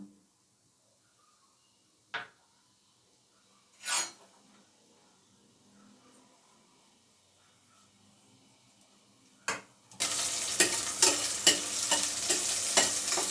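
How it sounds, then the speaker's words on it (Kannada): Slit green chillies hit hot oil in a pan after a few scattered knocks, then a loud, steady sizzle and crackling spatter fills the last few seconds. "ಈಗ ಹಸಿಮೆಣಸಿನ್ಕಾಯನ್ನ ಫ್ರೈ ಮಾಡ್ಕೊಳ್ಳೋಣ ಅದು ಸ್ಟಿಪ್ ಮಾಡಿರೋದ್ರಿಂದ ಸಿಡಿಯುತ್ತೆ"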